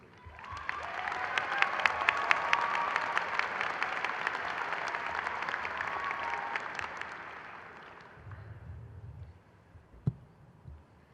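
Audience applause at a spring 2022 business school commencement ceremony, a dense clatter of many hands clapping for about eight seconds before thinning out, followed by a few scattered claps and a single thump.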